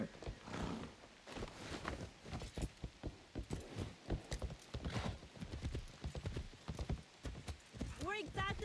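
Continuous rhythmic clip-clop of horse hooves on a ride in Assassin's Creed Shadows, with tack jingling and a faint whinny, under spoken dialogue throughout.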